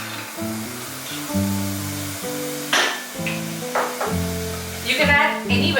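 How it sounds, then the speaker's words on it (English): Vegetables hit hot spice paste in a pan for Thai fried rice, giving a steady close sizzle and frying hiss with stirring scrapes, while tonal background music plays underneath. "Once it starts sizzling, you can add the rest of the ingredients. So I'm going to add the vegetables first."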